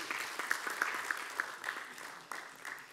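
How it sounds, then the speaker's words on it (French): Audience at a conference panel on African diasporas clapping, a fairly faint, brief round of applause with scattered individual claps. "Vous pouvez l'applaudir très fort, s'il vous plaît."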